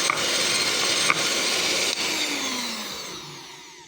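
Electric hand beater whirring steadily as it whisks three eggs in a bowl, close and continuous, with a couple of faint knocks against the bowl and the motor winding down at the end.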